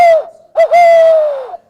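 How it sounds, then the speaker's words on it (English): An owl recording plays back loudly and clearly: two drawn-out tonal hoots, the second longer and slightly falling, with silence between them and no talk. "I'm glad you all like that owl so much."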